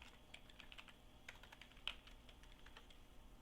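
Steady typing on a computer keyboard while entering a chat message in a Moodle chat room, soft rapid key clicks with one sharper tap, quiet and close with no talk.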